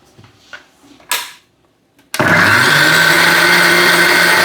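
A kitchen blender grinding mango curry paste to a smooth, ink-like consistency starts abruptly after a few short clicks and knocks, then roars loud and steady close by with no talking.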